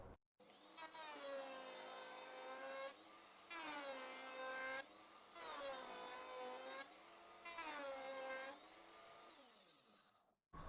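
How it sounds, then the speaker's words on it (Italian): A Gude OFT 855 router table cutting wood freehand along the bit's bearing, giving a loud, steady high-pitched whine in four long passes separated by short lulls, with no talk. "Adesso voglio fare la prova a fresare direttamente senza battuta parallela, quindi sfruttando il cuscinetto presente sulla fresa in modo da lavorare a mano libera."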